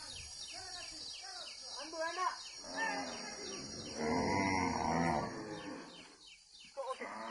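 Gir breed cows mooing at a dairy farm, several long, low moos in a row, one loud and drawn out, with birds chirping and people talking nearby.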